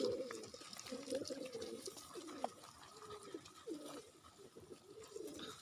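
Pigeons coo in a series of soft, low, repeated calls nearby, with faint background rustle and no talking.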